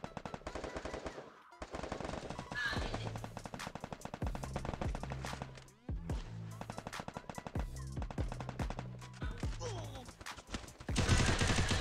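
Rapid automatic gunfire in a Free Fire-style 4v4 wager match, with dense bursts of machine-gun shots close and loud for most of the stretch, short gaps between volleys, and occasional voices in the mix.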